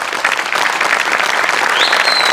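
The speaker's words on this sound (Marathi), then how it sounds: "आणि या सगळ्यांसाठी एकदा जोरदार टाळ्या व्हायलाच पाहिजेत." Audience clapping loudly and steadily after a stage comedy skit, dense sustained applause filling the hall with no voices, a faint high whistle-like tone creeping in near the end.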